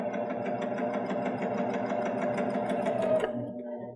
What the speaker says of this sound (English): machine is powering over that thickness as it comes to it without any aid